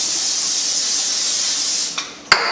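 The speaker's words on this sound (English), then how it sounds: "I'm just going to spray the pan with that." A continuous close hiss of vegetable cooking spray sprayed onto a pan for about two seconds, followed by a couple of sharp clicks.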